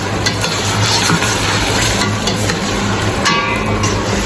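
Chicken frying in butter gives a dense, steady sizzle close up, with faint stirring clicks over the crackle and no talking.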